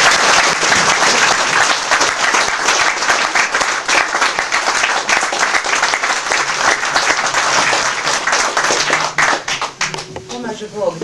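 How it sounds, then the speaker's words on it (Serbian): Loud, thunderous applause from a packed crowd at a political forum in Stari Grad opposing EU membership, rolling on steadily with scattered crowd noise mixed in and thinning slightly near the end. "Pozdravimo gromoglasnim aplauzom veliku srpsku."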